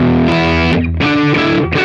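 An electric guitar runs through a Line 6 Helix LT with two blended impulse responses, playing loud distorted chords in short sustained bursts separated by brief gaps, close and alone.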